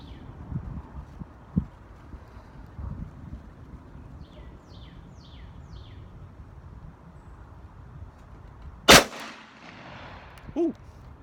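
A single sharp, loud shot from a Smith & Wesson 686 Plus revolver cracks at an outdoor range near the end, against a low rumble of wind noise.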